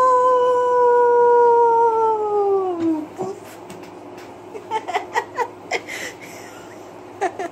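A dog gives a long, sustained howl that trails off, followed by scattered short yips and whimpers, close and fairly loud.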